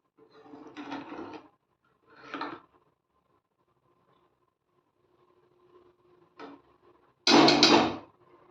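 A metal lid set over a pan of egg curry on a stove gives a few short scraping clatters, then a louder clanking settle as it comes down, separated by quiet gaps.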